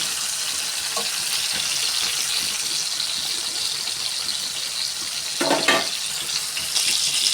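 Chicken pieces fry in plenty of oil over a low flame, producing a continuous bright crackling sizzle that stays even throughout, swelling briefly near the end as pieces are shifted.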